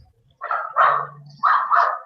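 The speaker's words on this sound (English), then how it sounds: "Can you hear that wretched dog barking in the background?" A dog barks repeatedly in the background, several sharp, fairly loud barks in two pairs, with a low hum in between and no talking.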